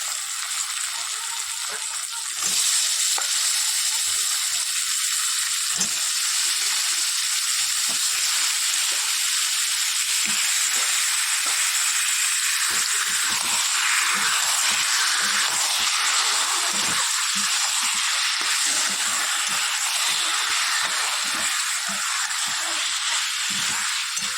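Fish fry in a pan with green chilies, a steady bright sizzle that jumps louder as the fish go in, with scattered stirring clicks and scrapes throughout.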